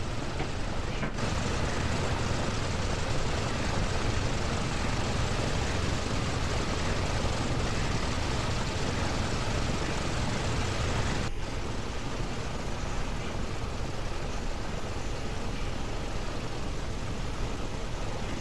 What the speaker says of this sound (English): we're starting engine number 3, which is the primary engine to start on this airplane